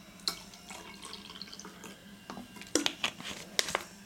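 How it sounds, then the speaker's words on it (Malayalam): Water is poured into a glass that already holds diluted povidone-iodine, making a trickling, splashy flow with scattered drips and clinks, fairly quiet and close by. "അപ്പോൾ അതിനുശേഷം അതിലേക്ക് വെള്ളം ഒഴിച്ചു കൊടുക്കുക."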